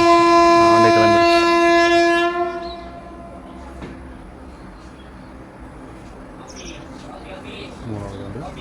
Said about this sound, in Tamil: வண்டி கிளம்பிடுச்சு.